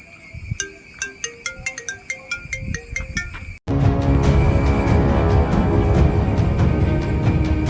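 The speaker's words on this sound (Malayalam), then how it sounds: "ഫോൺ അടിക്കുന്നുണ്ട്" A phone's ringtone plays a repeating melodic pattern for a few seconds, then cuts off abruptly and gives way to louder, dense background noise.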